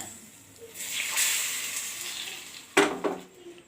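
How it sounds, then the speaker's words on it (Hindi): Spices crackle and sizzle in hot oil for tempering a green pea curry, a steady hiss that flares into a sharp, louder burst near the end as something hits the pan. "अब देखियो एमे अहाँ के तड़का लगा रहल छी।"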